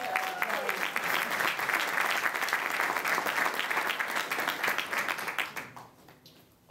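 A jazz club audience applauds a musician after his introduction at a jazz band show in Jersey City, with steady, dense clapping that fills the room for about five seconds and then fades to a few scattered claps.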